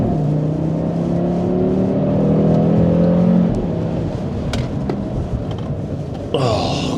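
A Cupra Formentor VZ5 with its five-cylinder engine accelerates hard on closed roads, a loud rising engine drone heard from inside the car, with a brief higher burst near the end.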